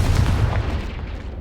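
A deep, rumbling blast from the Bombarda and Confringo explosion spells in the Hogwarts Legacy video game, loud at first and then decaying over about a second.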